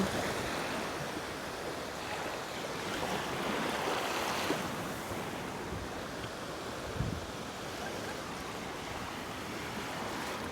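Cold sea surf washes onto a crowded beach in a continuous, fairly even roar of breaking waves, with wind buffeting the microphone and no clear talk.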